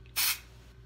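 A single short, sharp hiss of an aerosol dry shampoo can, close and loud, lasting a fraction of a second against quiet background.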